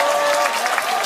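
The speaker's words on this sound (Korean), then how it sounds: "여자분들이 박수를 치시니까 대단히 고맙습니다" Women in a lecture audience clap together, a dense, steady patter of many hands held close and fairly loud throughout, with a faint tonal hum beneath.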